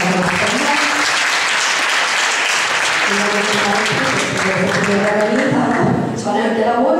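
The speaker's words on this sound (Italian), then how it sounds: "intanto chiederei un applauso anche di nuovo per la nostra famiglia" Audience applause at an indoor public meeting on vaccines, a dense sustained clapping that fills the room, loud and continuous with some voices mixed in beneath it.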